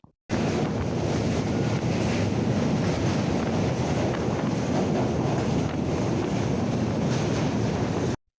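A passenger train runs along its rails with a loud, unbroken rumble and wind buffeting, holding steady for about eight seconds before cutting off abruptly.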